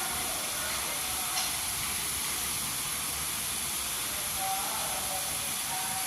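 Murukulu, a Telangana snack, frying in hot oil, giving a steady dense sizzling hiss that stays even and close throughout.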